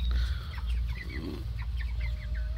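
Ducks squabble and quack in a farmyard, a run of short harsh calls stacking up over steady low background rumble, fairly close and continuous.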